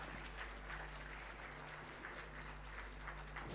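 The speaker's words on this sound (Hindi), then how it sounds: "एक बार जोरदार तालियां हो जानी चाहिए" A crowd at a government scholarship event claps steadily and loudly, the applause sustained without a break over a low background hum.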